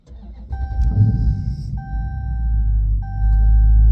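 Dodge muscle car with a 6.4 liter Hemi engine starting up: a brief starter whir, then the engine catches with a deep, loud rumble that settles into a heavy, steady idle close by, with faint chimes in the background.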